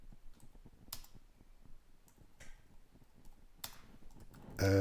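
Keystrokes on a computer keyboard come in soft, scattered clicks with a few louder bursts, close and quiet with no voices, ending in a sudden louder clatter.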